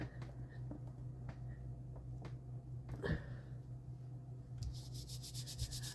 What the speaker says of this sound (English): Give it a little rub there.